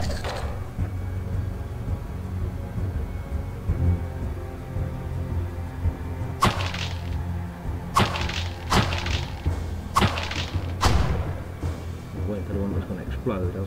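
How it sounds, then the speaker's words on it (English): Barrels being smashed open and exploding in the dungeon game Diablo: several sharp, loud cracking bursts in quick succession, each with a brief crash, landing over a low droning game background with a voice talking. "Just be careful when popping those barrels."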